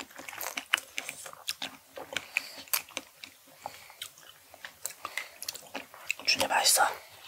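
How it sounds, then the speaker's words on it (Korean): Close, wet chewing and soft crunching of fresh strawberries during a fruit mukbang, with irregular bites and juicy smacks, and quiet voices murmuring now and then. "삼촌은 딸기 먹을 거예요."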